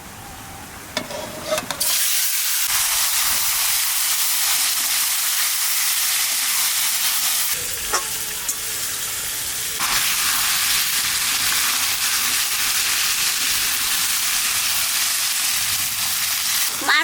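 Fish sizzling loudly in hot oil with bay leaf, cumin, cloves, cinnamon and cardamom, a dense close hiss that bursts in after a brief quiet start and runs steadily throughout.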